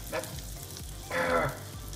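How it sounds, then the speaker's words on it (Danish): Sausages frying in a pan, a soft sizzle that swells into a louder, brighter burst of spitting fat partway through before settling back down. "vi lærer, hvordan man steger pølser"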